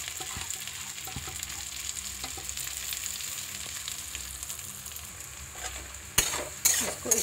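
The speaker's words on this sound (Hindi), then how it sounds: "इसको इस तरह से चला चला कर भून भून कर चला लूँगी" Corn mixture roasts in a pan with a constant sizzle while it is stirred over and over, utensil scrapes and knocks repeating close by, ending in a few louder clattering hits against the pan.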